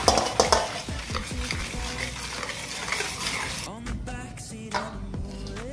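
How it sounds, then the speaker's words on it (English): A spoon or whisk mixing chocolate cake batter in a bowl, with scraping and clinking against the sides, busier at first and then sparser, isolated clinks toward the end. "So now I am going to mix it."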